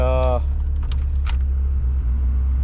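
A Honda Integra DC2 car starts up, a brief harmonic starter whine giving way to a low steady engine idle, with faint clicks and jangles close by and no voices.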